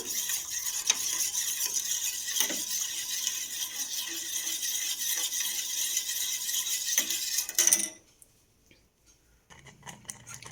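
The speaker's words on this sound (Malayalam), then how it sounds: "ലയിപ്പിച്ച് വെച്ചിരിക്കുന്ന അരിപ്പൊടി മിക്സ് ചെയ്ത് ഒന്ന് ഇളക്കി കൊടുക്കാം" A beetroot juice and rice flour mixture is stirred in a pan, a continuous close scraping swish with a few louder knocks, stopping abruptly near the end before faint sounds resume.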